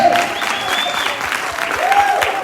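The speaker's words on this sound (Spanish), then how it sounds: "Denle un fuerte aplauso al Rey de Reyes" A church congregation gives loud sustained applause at a worship service, many hands clapping together with scattered crowd voices and a whistle rising over the steady roar.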